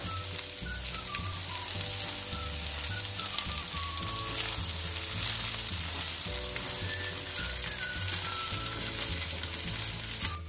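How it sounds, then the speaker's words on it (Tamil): Cooked rice is stirred into vegetables frying for veg biryani, a steady close sizzle with scraping stirs running underneath, while music plays throughout. "இதில் நாங்கள் வடித்து வச்ச ரைஸை மிக்ஸ் பண்ணுவோம்"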